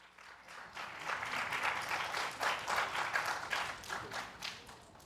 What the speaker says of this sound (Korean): 광양고등학교 친구들을 박수로 맞아주시기 바랍니다